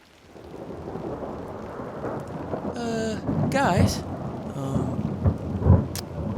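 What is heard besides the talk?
thunderstorm with lightning and rain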